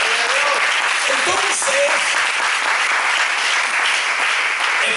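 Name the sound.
church congregation applause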